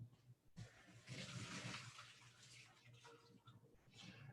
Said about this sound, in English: Turning that water off.